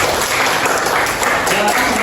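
Audience clapping at a school presentation, a dense steady burst of applause close by for about two seconds, with no speech over it.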